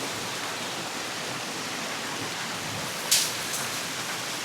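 Steady broadband rush of a waterfall pouring down beside a river, constant and enveloping, with a single brief sharp click partway through.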